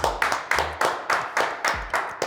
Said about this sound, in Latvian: Un ar aplausiem.